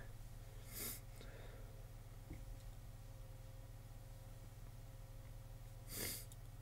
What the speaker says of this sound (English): Again, sorry for the sneeze.